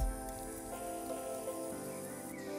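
An electric mixer mixing dry ingredients for a pineapple pie whirs on low speed, a steady motor hum with a layered whine that dips slightly in pitch partway through.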